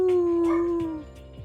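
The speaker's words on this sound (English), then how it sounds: "The dog is barking right now" A dog howling in a Danganronpa Trigger Happy Havoc game scene, one long drawn-out tone that fades after about a second, followed by faint whimpering yips.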